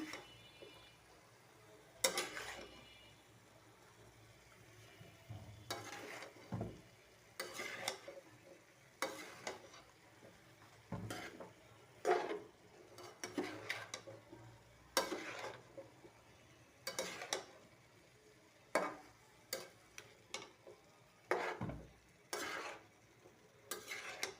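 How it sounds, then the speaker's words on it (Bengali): Turmeric and cumin powder are stirred in a frying pan, producing a series of sharp spatula scrapes and clinks at irregular intervals over a soft, quiet background sizzle, with no talk. "হলুদের গুঁড়া, জিরার গুঁড়া, নাড়াচাড়া করে দিই"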